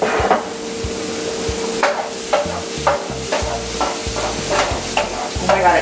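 Mushrooms sizzle and crackle steadily in a hot pan, with a string of close, sharp knocks and scrapes as they are stirred, loud and free of talk.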